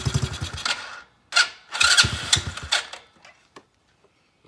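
An X-pro Bolt 110cc dirt bike engine sputters in rough, uneven bursts of revving that cut out and die off into near silence, close and loud.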